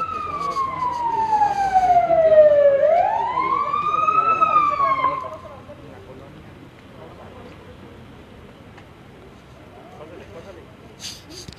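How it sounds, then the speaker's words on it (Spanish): A Mexican Red Cross ambulance siren wails, sweeping down and then up in pitch, loud and fairly near, before cutting off and leaving a low background rumble. "Acaba de llegar otra ambulancia de la Cruz Roja Mexicana."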